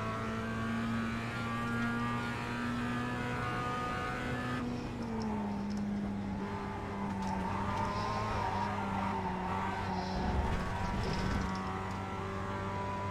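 A Mazda Cup race car in iRacing at Brands Hatch hums along with a steady engine tone that steps through gear changes, rising and falling under braking and throttle, fairly quiet and with no one speaking.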